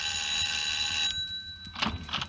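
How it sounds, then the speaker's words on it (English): A doorbell ringing in a vintage radio drama: a steady electric ring holds for about a second, then stops, followed by a few faint knocking or clattering sounds, with no talk over it. "I found myself ringing Dilly Carson's bell."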